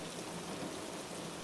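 Steady rain falls in an even, continuous hiss with no voices, a soft backdrop for a children's bedtime story about a fox and a fish.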